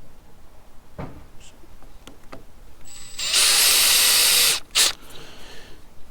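A power drill bores a small starter hole in a DIY mast tang for Dyneema rigging, whining loudly for about a second then giving a short second burst, with scattered workshop knocks before it.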